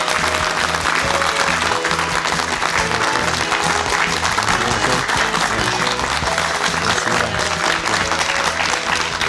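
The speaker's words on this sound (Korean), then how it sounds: "박수로 맞이해 주시기 예, 바랍니다." Enthusiastic studio audience applause welcoming a professor guest onto a Korean morning TV talk show, loud and continuous with upbeat music underneath.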